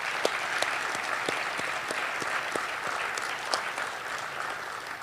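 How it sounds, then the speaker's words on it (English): Steady audience applause for award nominees at a community awards event, a dense wash of many hands clapping with a few sharp nearby claps standing out, continuous and even throughout. "Please join me in a round of applause for these deserving nominees."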